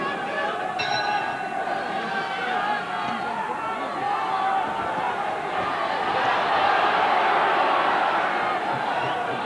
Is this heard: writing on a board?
no